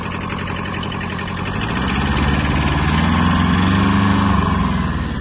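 A Kubota B-10 mini tractor's small diesel engine idles steadily nearby with a low chugging rumble, growing slightly louder midway and holding a constant rhythm.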